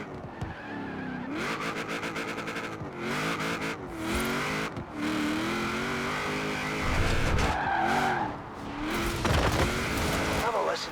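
In Forza Horizon 4, a supercharged 7-litre classic car from the 1940s revs hard and runs through shifts while its tyres squeal and skid in bursts, loud and close throughout.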